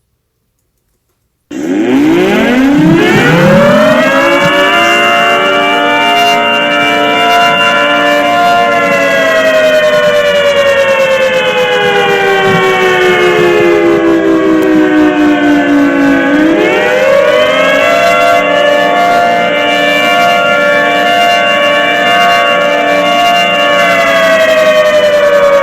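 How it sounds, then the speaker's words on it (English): A tornado siren winds up from silence into a loud, sustained wail, then drops briefly in pitch and winds back up to a steady tone, heard close and alone with no voices. "what your siren might sound like."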